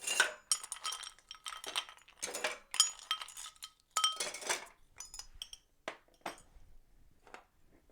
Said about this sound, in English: Just put some ice in our shaker.